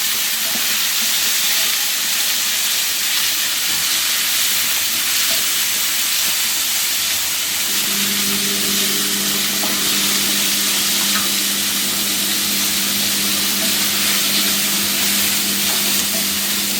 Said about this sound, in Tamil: சின்ன வெங்காயம் பெரிய வெங்காயம் அப்புறம் வந்து பச்சை மிளகா எல்லாத்தையும் போட்டு நல்லா கொஞ்சம் ஒரு அளவுக்கு நல்லா வதக்கிக்கலாம்